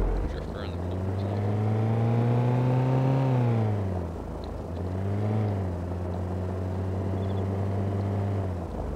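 A car in the Takistan Life game mode is driven hard around a corner, its engine droning loud and steady, dipping as the driver lifts off and then climbing again throughout.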